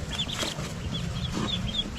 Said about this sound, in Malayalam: നമ്മൾ ഇൻക്യുബേറ്ററിൽ വെച്ച താറാവ് മുട്ട വിരിഞ്ഞ് കുട്ടികൾ ഇറങ്ങിയിട്ടുണ്ട്